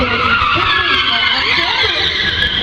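A VAZ 2108 hatchback skids through tight slalom turns, sustained loud tire squeal with engine drone throughout, while a voice talks over it.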